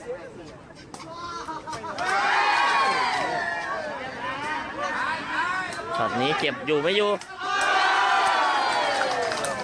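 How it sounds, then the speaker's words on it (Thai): Spectators at a Thai sepak takraw match cheer and shout in loud, swelling waves, with a commentator talking excitedly over the crowd throughout. "นี่คือเสียงของกองเชียร์นะครับ"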